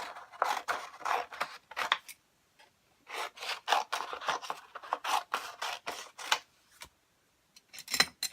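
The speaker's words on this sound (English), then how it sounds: "let me grab my scissors and cut out the size of paper I need." Scissors snip through paper in quick bursts of crisp cuts, with short pauses between runs, close and fairly quiet.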